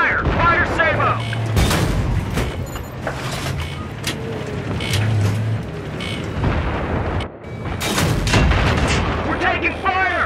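Heavy gunfire and booming artillery blasts fill a Battlefield 3 tank assault in the Thunder Run mission. The volleys are loud and close, with sharp cracks and deep explosions layered over engine rumble while soldiers shout radio-style commands.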